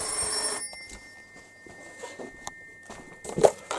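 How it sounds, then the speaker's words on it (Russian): A desk telephone rings loudly in a short burst at the start, then the room goes quieter with scattered footsteps, light clatter and one sharp knock near the end. "Телефон настольный."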